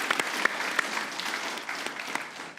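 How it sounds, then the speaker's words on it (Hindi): Applause on a cricket talk-show set comes across as a fairly quiet, distant patter of clapping hands with a few sharper claps standing out, lasting a couple of seconds. "तालियां होनी चाहिए भाई साहब"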